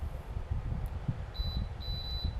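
A 40-inch bedroom tower fan sounds a couple of short, faint high electronic beeps as its timer is set by remote, over a low background rumble.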